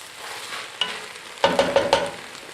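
Onions caramelizing in a pan for French onion soup, stirred a few times: an even sizzle carries through, broken by a quick scrape and then a run of close, rhythmic stirring strokes.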